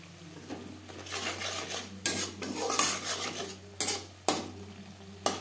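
Spices with red chilli powder and a splash of water frying in a pan over low to medium flame for a no-onion no-garlic cabbage curry, with a soft sizzle under repeated spatula scrapes and metallic clinks against the pan.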